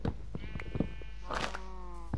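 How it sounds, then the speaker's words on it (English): Sheep bleat in Minecraft, several short bleats in close succession, fairly near and clear against a quiet game background. "Sheep everywhere and dogs."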